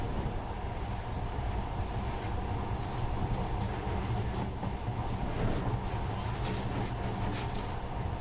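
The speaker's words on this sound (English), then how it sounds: "this monorail seems magic, doesn't it?" Monorail train running in the video game Metro: Last Light, a steady, loud rumbling drone with a faint rattle throughout, no speech.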